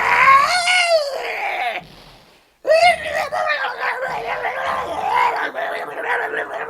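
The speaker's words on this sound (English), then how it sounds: "That scream!" Mr. Von Karma screams in the Ace Attorney video game: a loud, drawn-out, wavering shriek breaks off briefly, then resumes as a longer strained wail.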